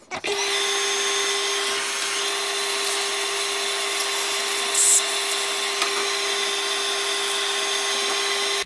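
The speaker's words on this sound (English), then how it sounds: "your fans with the vacuum cleaner close by, sucking up the dust straight away" A vacuum cleaner held close to a PC's processor and fans sucks up dust in a steady, loud whine with a constant pitch, running alone without a break and with a brief rattle of debris midway.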